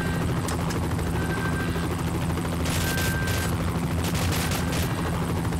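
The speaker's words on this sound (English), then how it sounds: "I shot it. Stop being fussy, stupid Russian Tommy gun." Tommy gun fire in the video game Cryostasis, heard as loud, dense gunfire bursts over a constant heavy low rumble, with sharper crackling flares partway through.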